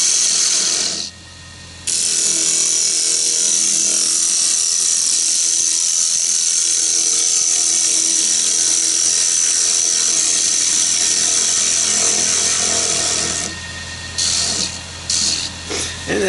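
A hand carving tool scrapes steadily across the face of a wooden medallion, working inward from the outside edge. The close, loud rasp is continuous, with short pauses near the start and end.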